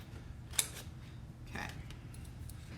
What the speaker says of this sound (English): Using the mighty golden scissors, cutting on the lines